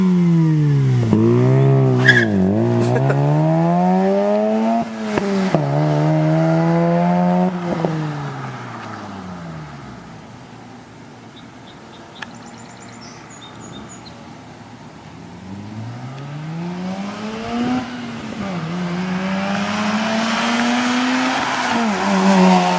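A Mazda RX-8 with an aftermarket eBay exhaust drives by, a loud buzzing rotary engine climbing through revs with crackling pops, fading away midway and then returning for another pass.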